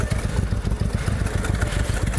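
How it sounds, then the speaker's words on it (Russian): Honda VTX motorcycle engine rumbling close by, a deep, pulsing low throb with steady rapid beats and slight clatter, heard alone without talk. "VTX прям урчит."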